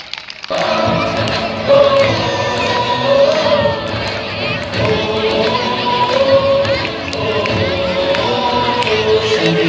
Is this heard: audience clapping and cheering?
yes